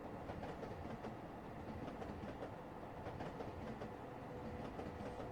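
A train car in the video game Eden Crafters rolls along its track with a steady rumble and rhythmic clickety-clack, continuous and fairly quiet, with no voices.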